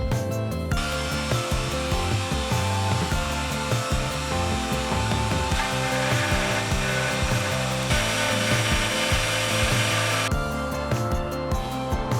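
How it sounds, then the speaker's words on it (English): A router with a 1/8 inch bit cuts a slot into wooden bookends, giving a loud, continuous whining and grinding buzz that holds steady for the whole stretch with small shifts in tone. "routed out a slot in the bookends with a 1/8 inch bit"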